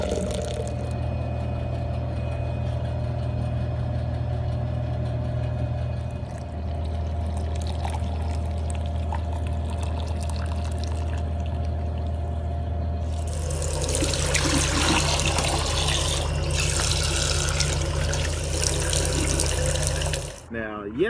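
A hot water dispenser at a coffee station pours a steady rush of water for about seven seconds, set against a constant low electrical hum in an indoor shop space.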